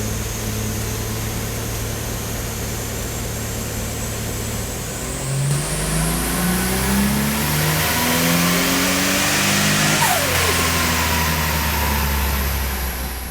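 A GT-R engine swapped into a Datsun 240Z revs on a dyno, droning steadily before climbing hard in a long, loud pull with rising harmonics, then dropping back sharply near the end.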